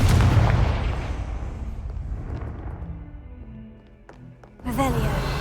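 Explosion spells Bombarda and Confringo go off in the Hogwarts Legacy video game: a loud, booming blast that decays over a few seconds, followed by quieter magical effects and a second sharp burst near the end, with a voice calling out spell names.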